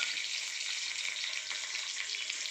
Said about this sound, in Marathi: आपली फोडणी तडतडली आहे आता लसूण आणि